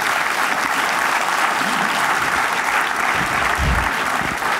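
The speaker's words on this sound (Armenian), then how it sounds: "մի հատ ծափարություններ" A studio audience breaks into sustained applause, a dense, even wash of clapping that holds loud throughout.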